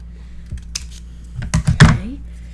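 Scissors or a blade cut through cardboard advent calendar packaging up close, giving a few sharp thunks and crunches clustered near the end over a quiet room.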